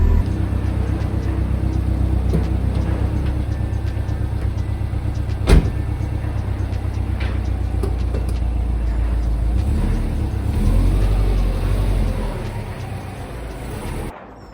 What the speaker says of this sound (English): Alright, I just pulled the car in a little bit.